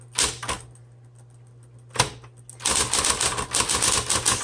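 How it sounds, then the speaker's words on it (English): A 1960s Smith Corona Electra 110 electric typewriter hums as a few keys strike, followed by a rapid burst of close, clattering keystrokes. "And start our typing demo."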